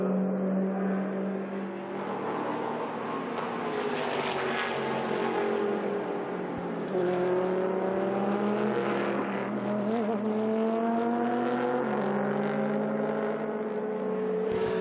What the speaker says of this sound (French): cette Chevrolet Corvette. C'est une C7R avec le 5 litres 5.